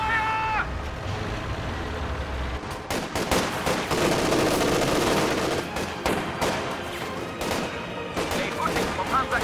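Dense battlefield gunfire from the World War II strategy game Company of Heroes 2, with bursts of machine-gun fire and scattered rifle shots crackling steadily throughout, loud and continuous with brief distant shouts mixed in.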